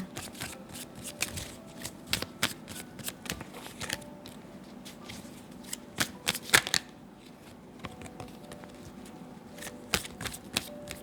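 Tarot cards being shuffled for a reading, a steady run of close riffling and snapping card sounds lasting throughout, with no talking.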